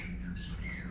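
Caged cucak ijo birds calling in a breeding aviary, with squawking calls over a steady low hum of background noise.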